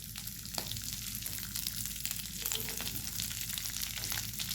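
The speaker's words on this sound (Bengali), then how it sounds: "এবার এই তেলে দিয়ে নেব কালো জিরে 1 চা চামচ," A teaspoon of black cumin seeds sizzles in hot oil left over from frying fish, a steady, dense crackling fry that holds close and even throughout, with no talking.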